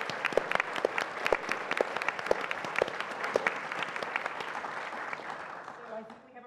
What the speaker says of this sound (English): I'd like to have us all to give a big round of applause.